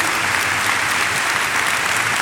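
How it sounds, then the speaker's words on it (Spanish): A church congregation breaks into dense, steady applause for its deacons, many hands clapping together in a full, sustained wash of sound from start to finish. "Quisiera que demos un aplauso a los diáconos de esta congregación"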